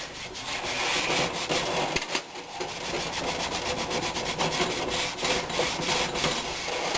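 Steady, dense abrasive scrubbing on a well-seasoned cast iron pan, a continuous rough rubbing that carries on loud and close with brief dips and no voices.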